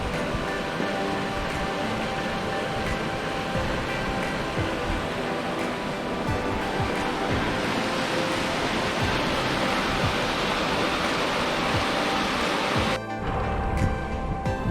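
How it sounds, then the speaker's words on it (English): Steady, loud rushing water at Ortona COE Park, Moore Haven, Florida, a dense broadband roar that continues unbroken throughout, shifting slightly in tone near the end. "I love the sound of rushing water."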